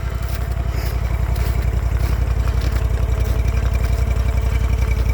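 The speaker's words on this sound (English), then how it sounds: "Here goes Tom on his snowmobile." A snowmobile engine runs steadily and close by, a loud continuous mechanical drone with a rapid pulsing rumble and some clatter, without any speech over it.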